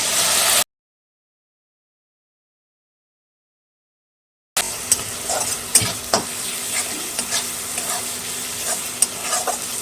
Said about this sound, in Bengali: লঙ্কা পেস্ট অনেকটা দিয়েছি কাশ্মীরি লঙ্কার গুঁড়ো দিয়ে দেবো কালারের জন্য দিয়ে নাড়াচাড়া দিয়ে জল দিয়ে মশলাটা কষে নেব